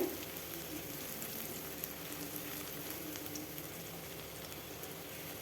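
Pomfret in mustard-poppy paste fries in a pan with a soft, even, continuous bubbling sizzle that stays faint and steady throughout, with no talking.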